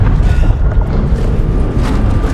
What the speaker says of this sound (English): As we make it to the helipad, there's a huge explosion.